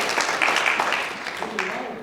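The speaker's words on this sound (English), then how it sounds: "A round of applause to Rabbi Gedalia as well." An audience applauds at an inspirational evening event, a brief patter of clapping mixed with a voice speaking over it, moderately loud and fading quickly.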